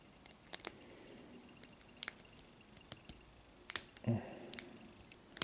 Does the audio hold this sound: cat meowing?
no